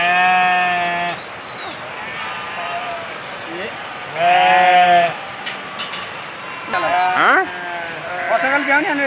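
A white billy goat and other goats in a Himalayan shepherd village bleat loudly and close by in several separate calls, with quieter rustling and a few stray sounds between them.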